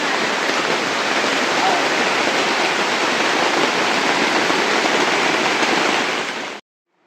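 Heavy monsoon rain pours down in a village, a dense, even roar without a break that stays loud and constant, then cuts off abruptly just before the end.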